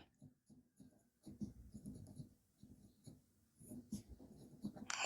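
Marker or chalk writing on a board during a Class 10 math lesson, a series of faint scratchy strokes in irregular bursts, quiet and close.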